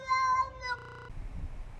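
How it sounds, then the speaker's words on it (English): A male cat meows outside near a house porch, two drawn-out, wavering cries that are fairly faint and distant, followed by low background noise. "I really think that was just a male cat that looking for another cat to get it on"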